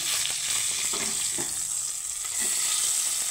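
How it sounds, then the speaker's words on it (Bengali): Bata fish frying in a pan of hot oil, a continuous close sizzle with occasional soft pops and a few faint clinks, no voices over it. "এক পিস ভাজা হয়ে গেছে।"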